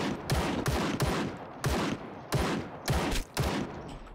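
Gunfire in the shooter game Ring of Elysium: repeated loud bursts of rapid automatic shots, about eight separate volleys with short gaps between them, close and harsh, with no talking.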